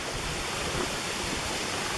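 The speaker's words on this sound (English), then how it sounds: "That is where the waterfall goes over." Steady broadband rush of the waterfall at Glen Onoko Falls near Jim Thorpe, Pennsylvania, heard from a cliff edge above the drop, a continuous even roar with no voices.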